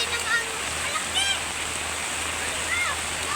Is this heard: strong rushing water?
yes